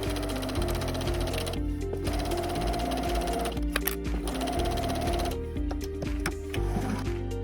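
A sewing machine zigzag-stitches the flat edge of a fabric scrub cap, a close rapid rhythmic clatter that speeds and pauses in short bursts across several seconds, with no voices over it.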